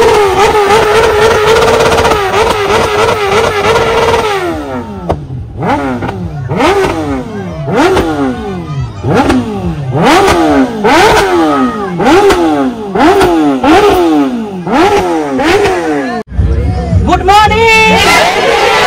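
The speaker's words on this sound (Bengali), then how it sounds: "আরেকটু জোরে কোন বাইক, এর কি আওয়াজটা একটু হবে?" Motorcycle engines at a bikers meetup, a ZX among them, rev loudly in repeated rising-and-falling bursts, with a steady roar first and crowd babble underneath throughout.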